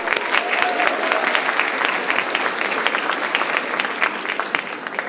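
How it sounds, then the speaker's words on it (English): An audience at a communications studies speech competition gives a big round of applause as a volunteer comes on stage, dense steady clapping throughout, fairly close and loud. "Give a big round of applause."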